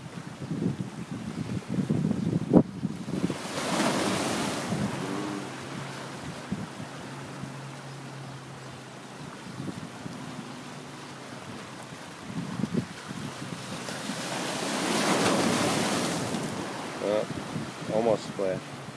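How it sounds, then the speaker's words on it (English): Big ocean waves surge and crash against rocks at a cove in broad swells, with steady wind buffeting the microphone throughout, loud rushes coming early and again near the end. "Here comes a couple of big waves."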